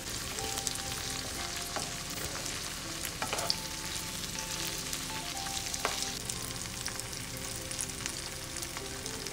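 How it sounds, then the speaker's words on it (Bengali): Chopped tomatoes and onions fry in a pan with a dense, steady sizzle and crackle that holds at an even level throughout, with occasional faint clinks and scrapes of stirring. "এর মধ্যে কিন্তু আমি চপড টমাটোটাও অ্যাড করে দেব, দিয়ে এটাকেও হালকা ফ্রাই করে নেব"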